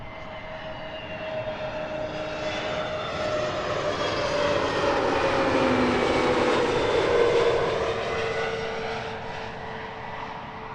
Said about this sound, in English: Sky Express flight 700 about to touch down from Athens.